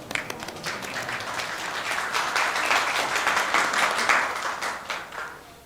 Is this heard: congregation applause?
yes